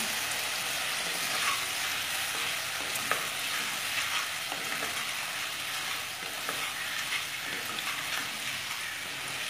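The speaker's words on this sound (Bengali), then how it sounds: "এটা শুকিয়ে ফেলব আমি নাড়তে নাড়তে" Spicy potatoes with asafoetida frying in a pan as water cooks off, a continuous bright sizzle with steady stirring scrapes and small pops, close and even throughout, no talking.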